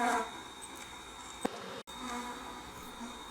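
Honey bees around beehives during an inspection, a steady, faint, close buzzing hum with no talk.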